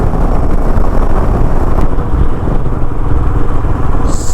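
A motorcycle cruising along NH 44, an Asian highway, gives a steady loud engine drone buried in heavy rushing wind noise that runs continuously throughout.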